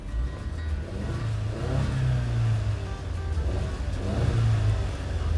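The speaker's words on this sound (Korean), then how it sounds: "시동은 되게 심플하게 걸리면서 약간 딱 들리는 배기음이" A Genesis G70 with a 2.0-litre turbo engine idles and blips after starting, its exhaust giving a deep, close rumble that swells twice with throttle, steady and loud with no talk over it.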